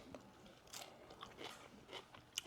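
Faint, crisp crunching bites of freshly harvested hydroponic black seeded lettuce being chewed, several soft crackly snaps close to the mouth in a quiet setting.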